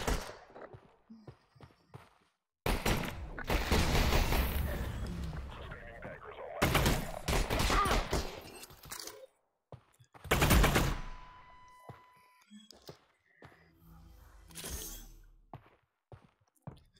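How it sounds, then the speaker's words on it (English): Automatic gunfire from a shooter video game, with several loud, sustained bursts separated by quieter gaps, heard alone without talk. "Like he's shooting down on me."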